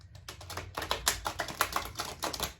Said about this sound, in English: How do I shuffle these? It's hard with newer cards.